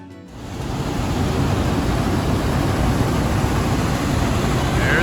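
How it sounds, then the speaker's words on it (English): Water flowing out below the old mill at the Old Mill Restaurant in Pigeon Forge, a loud, steady broadband rush that swells in just after the start and then holds constant. "See the water flowing out down there."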